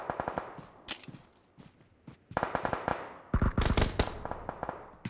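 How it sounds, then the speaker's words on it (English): Rapid bursts of automatic gunfire and scattered single shots from a video game during an esports tournament quarter-final match, loud and close, coming in clusters separated by brief lulls. "And the bullets continue to ring all the way out."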